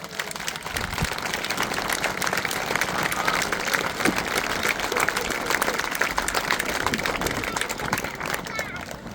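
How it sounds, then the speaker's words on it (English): An outdoor crowd at the Duxford Summer Air Show claps and applauds steadily and loudly throughout, a dense wash of hand claps with scattered voices in the mix. "could I get a large Duxford round of applause for his service?"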